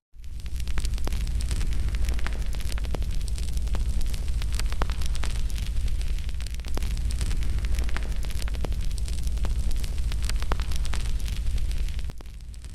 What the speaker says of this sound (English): a new, far more terrifying sound began to echo through the unnatural silence, the crackle of flames